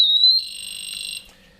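A Somfy wireless indoor alarm siren sounding, a loud, piercing electronic tone that rises briefly and then holds a steady warbling pitch before cutting off abruptly, heard alone.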